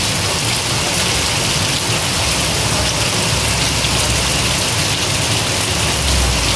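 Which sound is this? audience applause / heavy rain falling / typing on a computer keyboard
heavy rain falling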